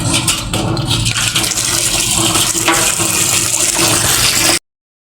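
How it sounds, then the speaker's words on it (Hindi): Water gushes steadily into a tub set out for washing clothes in a home washing area, a loud continuous rushing fill that runs without a break for several seconds before cutting off abruptly. "पानी भर कर दूसरे कपड़े भी धो लेते हैं।"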